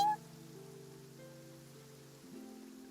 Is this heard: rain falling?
yes